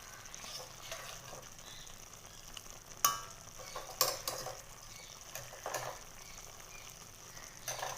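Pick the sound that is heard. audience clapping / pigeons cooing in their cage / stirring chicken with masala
stirring chicken with masala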